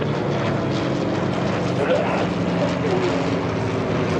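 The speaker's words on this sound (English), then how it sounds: "Mustangs, this is going to be a fly pass." A P-51 Mustang warbird makes a flypast at the EAA AirVenture airshow, its engine a steady, broad roar that holds loud for the whole stretch.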